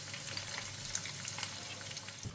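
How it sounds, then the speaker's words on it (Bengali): Sliced onions sizzle softly in hot oil for Kolkata-style meat biryani, a faint, even frying hiss with a few light stirring sounds nearby. "ওই তেলেতেই আমি পেঁয়াজ বেরেস্তা করার জন্য দিয়ে দিচ্ছি। লাল লাল করে আমি ভেজে নেব।"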